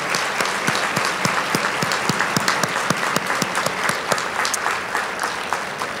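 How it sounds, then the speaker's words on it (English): Audience at a women's awards program applauds honorees with loud, sustained clapping, a thick even wash of claps with some sharper individual hits keeping a loose rhythm throughout. "Let's all give them the applause that they should have gotten last year."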